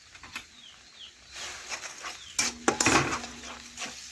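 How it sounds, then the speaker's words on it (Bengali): A spatula stirs pineapple chutney with turmeric and salt in a pan, making soft scraping and light clinking sounds, faint and irregular, with a brief louder scrape cluster near the end. "এভাবে নাড়াচাড়া করে ভালোভাবে লবণ হলুদ মিশিয়ে নিচ্ছি"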